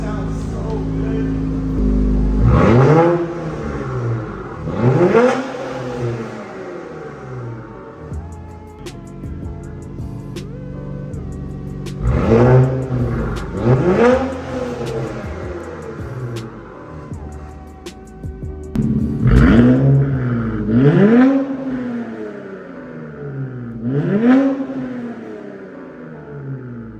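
Infiniti Q50/Q60 fitted with AMS lower downpipes revving hard in several bursts, each rise in engine pitch falling back to a rumbling idle between blips, loud and close.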